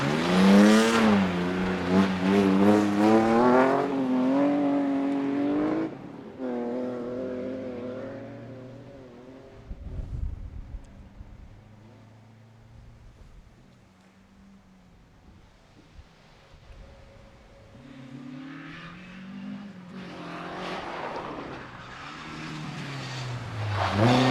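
A race car sliding at a motor club time trial in Melbourne, its engine loud and revving with rising and falling pitch at first, then fading into distant rumble before another car's engine swells again near the end.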